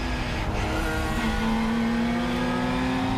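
Ginetta race cars lap the Assen circuit in a supercar race, a steady engine drone with one car's rising pitch carrying over distant crowd-like roar, moderately loud and continuous.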